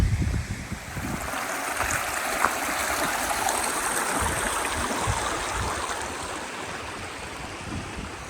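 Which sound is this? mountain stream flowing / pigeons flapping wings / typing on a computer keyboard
mountain stream flowing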